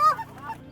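Ducks call during a waterfowl hunt in Michigan, a single short, nasal honk that starts loud and quickly fades into a couple of weaker echoing notes.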